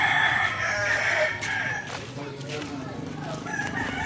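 Rooster crowing at a beach resort market in Mauban, a sustained call heard at moderate distance with people talking nearby.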